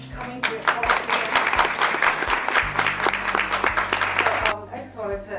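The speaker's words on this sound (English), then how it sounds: "So a round of applause for coming to your coalition." Audience applause at a community college workforce development literacy program gathering, a fairly dense patter of clapping from a modest crowd that fades out near the end, with a low hum running underneath.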